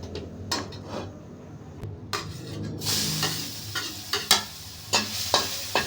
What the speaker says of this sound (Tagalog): Maggigisa tayo ng onion, garlic,